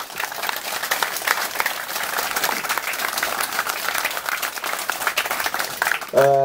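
Crowd applause at an outdoor rally commemorating the Incheon Landing anniversary, loud continuous clapping across the whole stretch with a sharp louder burst at the very end.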